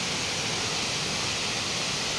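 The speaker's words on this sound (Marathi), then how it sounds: "बघू शकताय खूप छान असा धबधबा आहे" Chopadewadi waterfall in Kolhapur roaring steadily, a dense, even hiss of falling water heard close and alone without any break.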